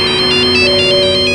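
A phone rings with a loud electronic ringtone made of rapid, evenly pulsing high beeps over a steady sustained tone, repeating without pause.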